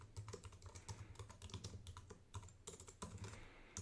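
Typing on a computer keyboard while entering Ruby code, rapid irregular key clicks close up and fairly quiet, continuing without pause.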